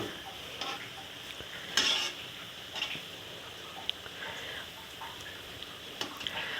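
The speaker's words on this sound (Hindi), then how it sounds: "देखिए बस कितने अच्छे पकोड़े फ्राई हो रहे हैं।" Onion pakoras deep frying in hot oil, a soft continuous bubbling sizzle with occasional clinks and scrapes as they are turned, quiet and close, with no talk.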